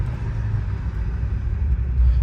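A 2008 Chevrolet Corvette C6 Z06 engine rumbles in a deep, steady low growl that holds loud and close throughout, with no voices over it.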